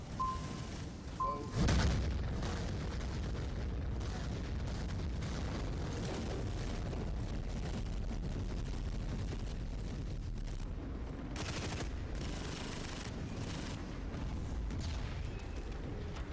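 Bombing explosions rumble through a Dust 514 battle, a deep continuous roar of blasts with a sharper boom near the start and another around the middle, sustained and heavy throughout.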